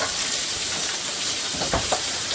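Thickening sauce bubbling and sizzling in a pan alongside seared steaks, a steady hissing sizzle with a few small pops near the end.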